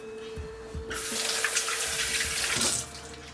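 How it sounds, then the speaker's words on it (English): A kitchen tap runs steadily for hands being washed partway through making vegan oatmeal cookies, the water stream starting abruptly, staying loud and broad for about two seconds, then shutting off. "Wash my hands real quick."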